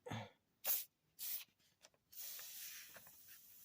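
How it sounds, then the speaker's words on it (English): Several short hissing bursts from an aerosol can sprayed onto the sway bar bushings of a 2008 Buick Lacrosse, separated by pauses, followed by a longer softer spray trailing off, close up. "So let me spray this here."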